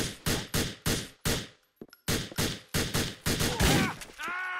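Shotgun blasts ring out in a GTA IV firefight, about a dozen loud, sharp booms in a fast, slightly uneven rhythm with a brief pause partway through, close and forceful.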